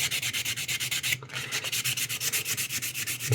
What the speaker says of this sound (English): I'm going to sand most of this off